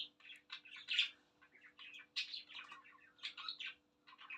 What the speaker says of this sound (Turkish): Kargam dayanamıyor gidiyor.